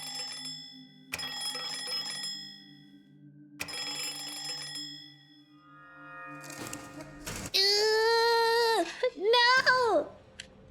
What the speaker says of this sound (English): I think that the bell sounds nicer when I go up and down between the floors though